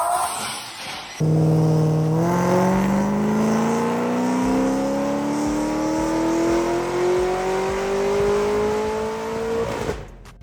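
A Cadillac CTS-V on a dyno roars through a full pull, its engine note climbing steadily and loudly for about eight seconds before cutting off abruptly.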